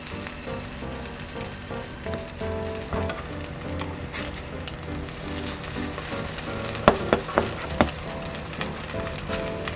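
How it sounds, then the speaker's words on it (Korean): Spoonfuls of cup ramen fried rice with cheese sizzle in cooking oil in a pan, a steady crackling fry with a few sharp pops near the end, close and moderately quiet. "팬에 식용유를 두르고 컵라면 볶음밥을 한 숟가락씩 올려주세요"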